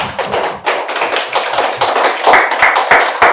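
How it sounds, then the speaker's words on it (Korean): A church congregation claps during a Sunday sermon, loud close hand claps that fall into bursts and loose rhythmic patches, each strike sharp and punchy. "박수."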